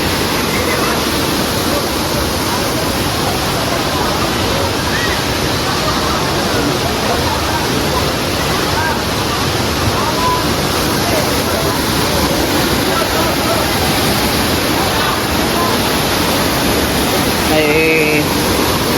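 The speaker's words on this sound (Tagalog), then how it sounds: "Parang mini falls dyan." Tanawan Falls in Dingalan, Aurora, gives a steady, dense roar of rushing water that fills the whole stretch without a break, with faint murmurs of people nearby.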